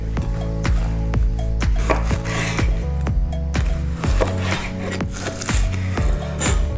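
A knife chopping spicy peppers on a wooden board, a run of firm, regular thuds, close and clear, with light scraping between the cuts.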